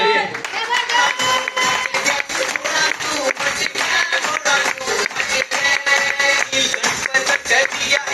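An audience at an indoor marketing seminar claps steadily for about eight seconds, a dense wash of many hands mixed with crowd murmur and shuffling, loud and close with no pauses.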